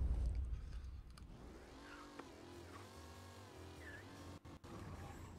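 Car engine humming and revving while driving in the video game Mafia Definitive Edition, a steady faint drone with rising and falling pitch, heard alone.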